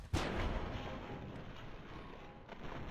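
Rocket fire from robots in Fallout: New Vegas, a sharp blast at the start rolling into a sustained rumbling barrage, with another burst near the end, moderately distant.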